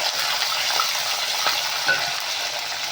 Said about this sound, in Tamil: வெங்காயம், தக்காளி, பூண்டு எல்லாம் நல்லா வதங்கணும்.